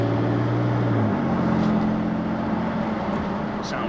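A remapped Peugeot 407 Coupe 3.0 HDi diesel drives along with a steady low drone that shifts pitch as it accelerates, heard from inside the cabin with road noise.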